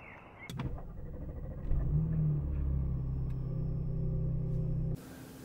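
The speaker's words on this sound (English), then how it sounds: "So we're just warming the car up now." A parked car's engine idles and warms up on a morning outside, a steady low rumble that swells after a door-like thump and runs evenly for several seconds before cutting off.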